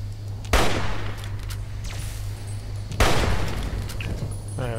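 Gunfire in the video game Fallout 3: two loud, sharp shots about two and a half seconds apart, each with a short ringing tail, over a steady low hum and faint background clatter.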